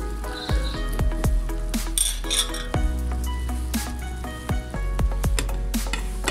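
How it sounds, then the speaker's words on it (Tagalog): Hotdogs dropped into a hot covered pan while cooking chicken in soda, a steady loud sizzle of frying with repeated metallic clinks and scrapes of utensils against the pan, no talking. "lagay ko na yung hotdog"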